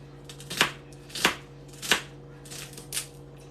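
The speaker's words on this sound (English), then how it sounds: "get the back of the knife, move that down there, get that off, and let's keep chopping away" A knife chopping vegetables on a cutting board during Easter dinner prep: five sharp, evenly spaced chops with short gaps between them, close and fairly quiet.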